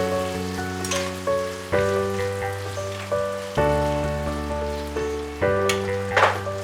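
Egg fried rice sizzles and crackles in a pan while it is mixed, a steady frying hiss beneath prominent melodic background music.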